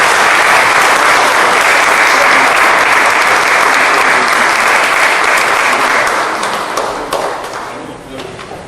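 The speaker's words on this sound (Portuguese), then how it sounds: "Dê um aplauso ao Senhor." Loud, sustained applause from a church audience honoring a visiting pastor, dense and steady for several seconds before tapering off toward the end.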